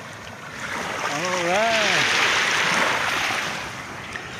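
Steady rushing wash of sea waves in Doha, Qatar, with a soft wind roar, while a person briefly speaks over it.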